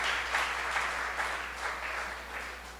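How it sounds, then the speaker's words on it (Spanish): A church congregation claps in sustained, fairly faint applause with rhythmic swells, heard alone without voices. "ese aplauso está muy bien"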